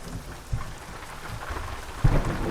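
Rain and thunder from a storm in American Truck Simulator, on a drive from Salem, Oregon to Tacoma, Washington: a steady wash of rain with low rumbles, and a heavier thunder burst near the end, with no talking.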